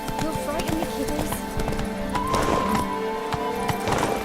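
Horse hooves clip-clop in a rapid rhythm as a horse gallops in the Witcher 3 video game, with voices, music and other game sounds layered over the hoofbeats.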